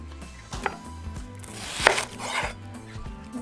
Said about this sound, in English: Our onion, we're just going to cut it in half.